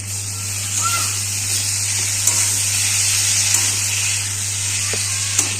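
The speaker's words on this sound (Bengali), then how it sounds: "টমেটোটা নরম হয়ে গেছে এবার আমি আদা রসুনের পেস্টটা দিয়ে দেবো" Ginger-garlic paste sizzling and frying in hot oil with softened tomato for a fish curry, a steady close hiss with a few small pops and crackles, with no voices.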